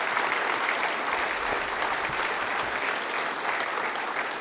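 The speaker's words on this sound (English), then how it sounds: "let's give it one more great round of applause" A sustained round of audience applause at a Kettering University announcement, thick and even clapping from a big crowd filling the room without a break.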